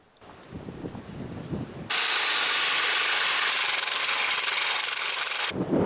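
A steady, loud high-pitched whine of a drill boring incrementally into a truck's spring hanger starts abruptly after a couple of seconds of softer rubbing, then cuts off near the end.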